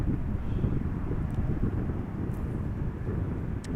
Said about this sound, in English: This is KLM flight 1542 arriving from Leeds, Embraer 175, short flight 41 minutes.